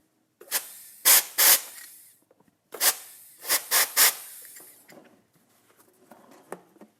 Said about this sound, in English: let's just give this a quick little shot of air